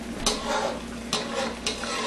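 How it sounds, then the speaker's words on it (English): A spoon stirs red snapper sarciado in a pan, making a few soft scraping strokes against the metal over a quiet, steady background. "I'm going to stir that about"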